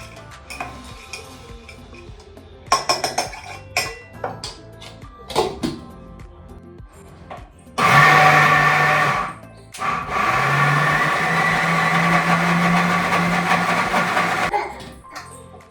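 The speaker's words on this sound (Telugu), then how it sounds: "ఇంకా ఇప్పుడైతే దీన్ని మిక్సీ పట్టిద్దాం." A kitchen mixer grinder blends veggie-loaded pesarattu (green gram dosa) batter, roaring loudly in two sustained bursts with a short pause between, after a stretch of clinking dishes and utensil clatter.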